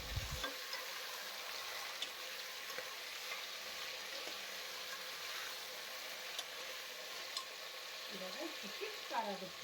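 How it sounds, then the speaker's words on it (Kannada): Soaked white peas and vegetables fry in a pan with a faint, steady sizzle and occasional soft stirring scrapes, heard quietly from a distance. "ಸೊ ಇದನ್ನೆಲ್ಲ ಫ್ರೈ ಮಾಡ್ಕೋತಾ ಇದ್ದೀನಿ ಇವಾಗ ವೆಜಿಟೇಬಲ್ಸ್ನ"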